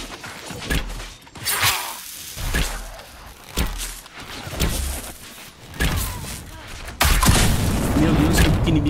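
Bow and arrow shots in the video game Dragon Age: Inquisition come as several crisp twanging releases with thudding hits and booming combat noise. Someone talks over parts of it, and the sound grows denser and steadier near the end.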